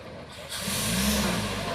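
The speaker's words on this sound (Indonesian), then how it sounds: "Serbuan truk tangki bosku." A heavy tanker truck's engine rumbles up close with a rising hiss of rushing air as it passes, steady and loud.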